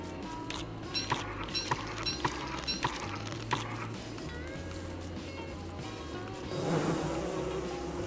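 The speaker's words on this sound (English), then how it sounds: "Get out of here, you bees." Bees buzz in the survival video game Don't Starve Together, a faint steady drone with soft thumping steps pattering over it and a brief rush of noise near the end.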